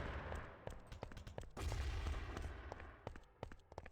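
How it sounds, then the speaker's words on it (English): Grenade explosions and rapid gunfire during a competitive Urban Terror tournament match, with sharp repeated blasts and shots, a heavier burst of booms in the middle, loud and close. "Early nades."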